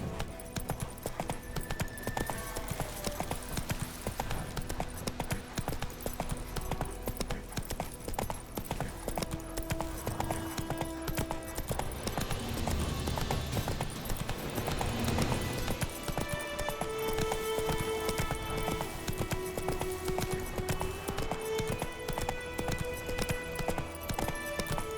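Horse Roach's hooves clip-clop steadily at a gallop in The Witcher 3 video game, a continuous near rhythm over game music and ambience with no talking.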